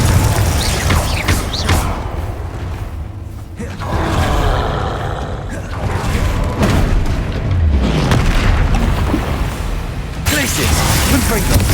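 Explosive Confringo spell blasts from a Hogwarts Legacy combat, several loud booming bursts and rumbling impacts layered over continuous battle noise, with spell incantations spoken between them.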